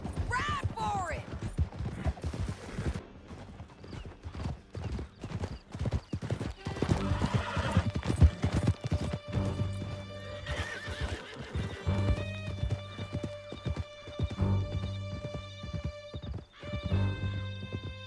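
A horse galloping hard in Red Dead Redemption 2, rhythmic hoofbeats pounding through a canyon with loud whinnies near the start, under a tense music score and shouted voices throughout.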